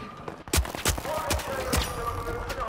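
Gunshots from the video game The Finals crack out in a handful of sharp, spaced bursts, mixed with a voice talking over the action.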